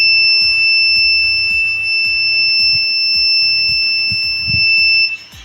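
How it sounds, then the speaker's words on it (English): An emergency alert buzzer on a patient health monitoring device gives a steady, loud, continuous high-pitched tone that holds unbroken until it stops just before the end. "you can also see the buzzer"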